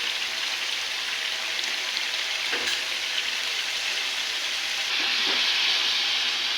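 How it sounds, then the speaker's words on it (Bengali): Spice masala frying in a pan for a Bengali-style roast, a steady close hiss and sizzle with faint scraping of a spoon stirring, constant with no talk. "এইভাবে মশলাটাকে কিছুক্ষণ কষিয়ে নিতে হবে।"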